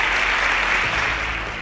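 Applause from the audience at a children's science quiz show after contestants answer correctly, a dense, steady wash of many hands clapping, loud and sustained, thinning slightly toward the end.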